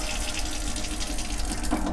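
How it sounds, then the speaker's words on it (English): Filtered water runs steadily from a galley tap aboard a Beneteau Oceanis 50 sailboat, a close, continuous splashing flow into the sink with no talking. "So we have water that will come out of this knob instead of that one"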